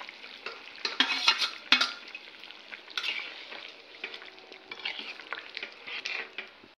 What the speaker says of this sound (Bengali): তো মাছের মশলাটা কষানো হচ্ছে, গেছে, এখন মাছগুলো দেওয়া হলো।